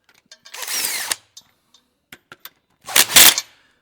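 A power gun tightening caps gives a whirring, ratcheting burst of about half a second, then a few short clicks and taps, followed by a second, louder, sharper burst.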